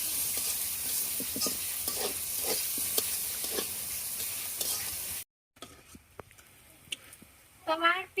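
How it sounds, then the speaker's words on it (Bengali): Onions frying in oil left over from frying a big river pangas fish, a dense sizzle with spatula scrapes, then a brief gap and a quieter crackle as someone talks. "তোমার পেঁয়াজ গুলা কিন্তু ভাজা হয়ে গেছে প্রায়"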